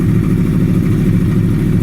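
Yamaha R1 motorcycle engine running steadily with a Rapid Bike fuel module fitted, a loud close low rumble throughout with a slight, even rev fluctuation and no voices.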